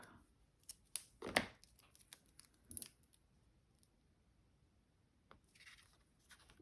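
A piece of tape is torn during an indoor craft class, giving a couple of short, sharp ripping bursts close by in an otherwise quiet room.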